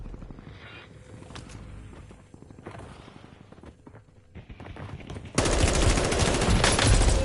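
Machine gun fire in a Call of Duty match rattles in rapid bursts under a dense, roaring battle din, then grows much louder and continuous near the end.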